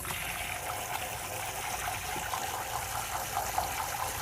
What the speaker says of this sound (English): put some fresh water into the bowl